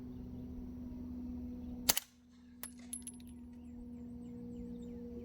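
Suppressed gunshot from a 9mm pistol-caliber carbine fitted with a Banish 46 suppressor, outdoors: one sharp crack followed by a couple of quieter reports and clinks under a steady background hum.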